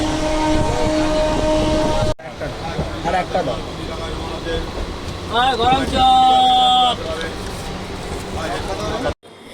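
Interior of a moving train on the way to Jhargram, a steady rumble and rattle with brief abrupt dropouts, a rising whistle-like tone midway and a sustained tonal hum; voices are heard at times.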